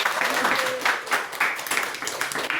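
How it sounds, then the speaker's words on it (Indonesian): An audience claps during a religious lecture on tolerance, a brief burst of scattered applause with a voice speaking over it. "Ayo tepuk tangan dulu buat kita semua."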